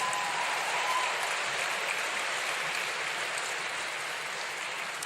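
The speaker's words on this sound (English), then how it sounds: "a round of applause again" A graduation audience at Manchester Metropolitan University breaks into sustained applause, a dense, even wash of many hands clapping that fills the hall and tapers only slightly.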